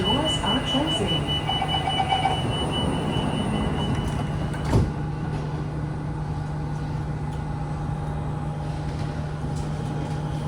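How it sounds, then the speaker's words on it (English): Door-closing chime and sliding doors of an SMRT KSF CT251 metro train at a station platform, a brief clunk midway over steady train hum and recorded announcements. "Doors are closing."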